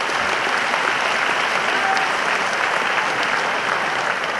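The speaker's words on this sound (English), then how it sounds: "Let's give him a round of applause as he comes up on stage." A presidential debate audience keeps up a thick, even wall of clapping as candidate Professor Venansius Baryamureeba walks onstage, loud and unbroken from start to end with no voices.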